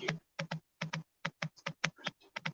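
Quick, uneven keystrokes tap on a computer keyboard, close and fairly quiet, about a dozen clicks in irregular clusters with brief gaps, no speech.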